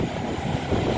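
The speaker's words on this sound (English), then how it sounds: "About to pass by now, we have a freight service. Look like it's worked by GBRF." A GBRF freight train passing through Rugby station, a loud continuous rumbling roar close by with no voices.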